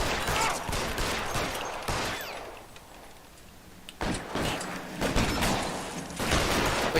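Gunfire in the video game L.A. Noire arrives as bursts of sharp, loud shots separated by a brief quieter lull, with faint game dialogue beneath.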